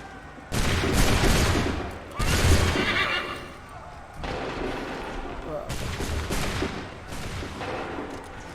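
Musket volleys crack out in Assassin's Creed III battle, several loud ragged bursts of gunfire in waves with horses whinnying and shouting soldiers amid the din.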